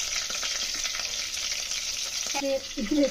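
Whole spices, including cloves, cardamom, cinnamon, bay leaf and shahjeera, crackle and sizzle in a hot pan for bagara rice, with a dense close frying hiss and brief stirring scrapes.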